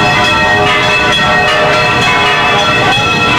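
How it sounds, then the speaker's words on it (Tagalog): Church bells ring continuously in the Philippines to mark Pope Francis's arrival by plane, a loud, dense wash of overlapping tolls with a steady metallic shimmer and no voices. "Hudyat ng paglabang ng eroplano ni Pope Francis sa Pilipinas, kasabay ng iba pang kampana sa bansa."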